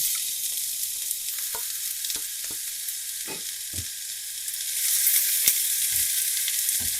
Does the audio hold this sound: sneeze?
no